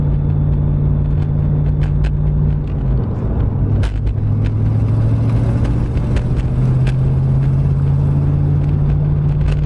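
A Camaro IROC-Z cruises at about 25 mph with a steady, close engine rumble and road drone, its pitch shifting slightly partway through, with a few light knocks and rattles over the top.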